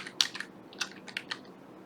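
A short burst of a few crisp computer keyboard keystrokes, close and fairly quiet, with uneven spacing and no talk.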